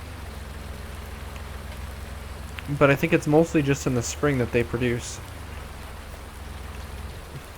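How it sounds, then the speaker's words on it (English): Steady hiss of rain falling in Farming Simulator 19, a constant even patter that runs throughout while someone speaks over it for a couple of seconds. "I don't know why it thinks it's raining."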